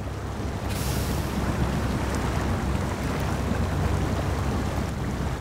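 Steady rushing water and wind roar around an off-road truck in SnowRunner as the current pushes it along; a broad, constant wash with no clear breaks, close and fairly loud throughout.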